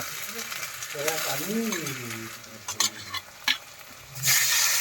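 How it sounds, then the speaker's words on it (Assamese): Meat sizzles in a hot wok with onion, chilli, ginger and garlic while a voice talks over it, followed by a few sharp scraping stirs and a louder burst of frying. "পিঁয়াজ, জলকীয়া, আদা, ৰচুন লগত পূৰা মাংসটো ভাজি লওঁ এটা কেৰাহীত"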